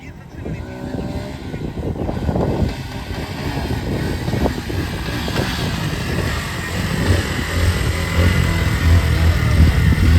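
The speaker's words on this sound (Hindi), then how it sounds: "लगाने के बाद तो बाइक स्टार्ट हो गया" A Bajaj Pulsar NS 125 motorcycle engine catches after being push-started and runs roughly with low throbbing idle, close up, amid outdoor background noise.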